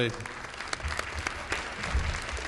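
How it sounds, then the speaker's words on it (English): An audience at a library proposal discussion meeting gives a brief round of applause, many hands clapping steadily and fairly close, with a voice talking over it. "A little round of applause"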